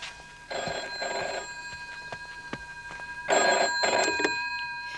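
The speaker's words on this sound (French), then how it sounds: "Va répondre au téléphone." A telephone rings in two bursts of a bright electric bell, each double ring loud and near, separated by a quiet pause, with no voices.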